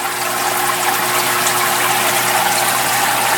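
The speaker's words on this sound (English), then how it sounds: "Water's raining down over the scrubbies." Steady, loud rush of aquarium filter water splashing and trickling down continuously over scrubbies in a biological filter, with no pauses.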